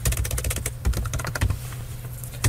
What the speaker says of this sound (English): now I'll type in histogram